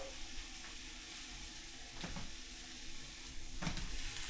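Lobster pieces sizzle and fry in a pan, a steady crackling hiss with two brief scraping flips as they are turned, close and without talk.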